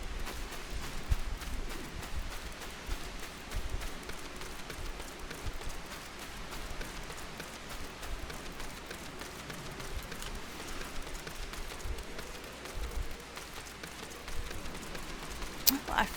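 Steady rain in a video game, a soft continuous hiss of drops that runs evenly through the whole stretch with only small flickers of brighter patter.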